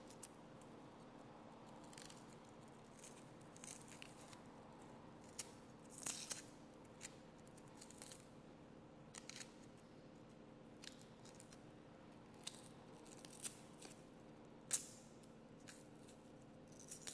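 Onion specimen being cut for microscopy, faint scattered crisp snips and crunches over a low steady hum, quiet and close with no talk.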